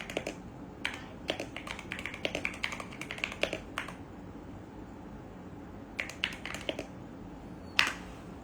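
Typing on a computer keyboard, heard as quick, light clicks in short bursts. A longer run of clicks is followed by a pause, then a few more taps. The sound is faint and there is no talk.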